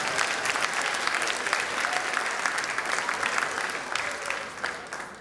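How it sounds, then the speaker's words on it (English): Guests at a college bicentennial kickoff birthday party give a warm round of applause: dense, continuous clapping from a crowd indoors, holding steady for about five seconds before fading slightly. "Give yourselves a big round of applause for playing along."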